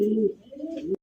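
A Chila pigeon gives a single short, soft, throaty coo, close and alone.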